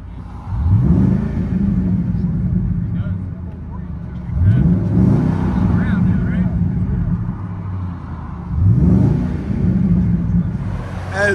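Ford F-Series truck with a 5.4L Triton V8 and custom exhaust, heard from inside the cab: three rising revs swell and fall over a steady deep idle rumble, with faint background noise.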